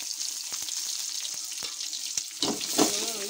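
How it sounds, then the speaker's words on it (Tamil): Small onions frying in oil with mustard seeds, curry leaves and dried red chillies for a country chicken curry, a steady close hiss of sizzling with a few louder crackles and stirring scrapes toward the end. "நல்லா வதக்கி பாருங்க, வெங்காயம் நல்லா வதங்கிடுச்சு"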